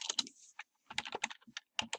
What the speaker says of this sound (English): I'm going to type in happylife.com and I'm going to search for a domain